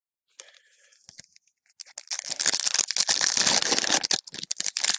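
Foil trading card packs of Upper Deck Series 1 hockey cards, bought at retail, being torn open close up: light crinkling at first, then a loud, sustained burst of ripping and crumpling wrapper with no talking.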